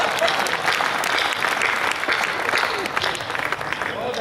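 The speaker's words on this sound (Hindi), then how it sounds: "अब ताली बजेगी" An audience at a Hindi poetry gathering (kavi sammelan) breaks into loud, sustained clapping that fills the whole moment, with voices mixed in.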